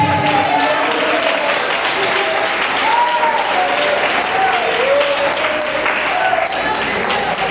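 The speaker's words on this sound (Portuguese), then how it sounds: "Pode aplaudir, pode aplaudir." A large church congregation claps loudly and steadily throughout, with voices and cheers mixed into the dense applause.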